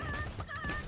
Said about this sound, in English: And then they turn into chickens.